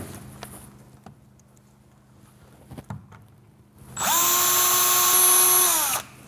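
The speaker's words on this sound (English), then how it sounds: "It's always worth making sure that you've got something underneath the door to protect it while you're drilling." A power drill bores holes in a cabinet door during a corner organiser installation, starting with a loud steady whine that holds for about two seconds and then cuts off, with faint taps before it and no talk.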